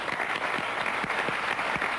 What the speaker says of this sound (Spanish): quiero pedir un aplauso para ella